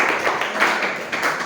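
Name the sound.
applause and clapping for Fajar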